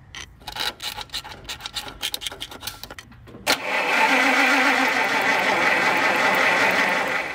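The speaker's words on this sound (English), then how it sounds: "I'm going to take my points file and open up the points and clean both sides of the contacts" A points file rasps back and forth across the ignition point contacts of a classic car in short, uneven strokes, close up; after a few seconds a steady running engine drone takes over and continues loud to the end.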